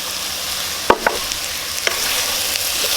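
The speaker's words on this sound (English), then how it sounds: "Just mix it really well." A spatula scrapes and stirs a pork and peanut filling in a hot pan, with a steady sizzle underneath and a few distinct clacks of the utensil against the pan.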